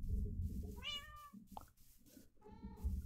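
A cat in Minecraft meows twice in clear tonal calls, separated by a short gap, over a low background hum and soft game sounds.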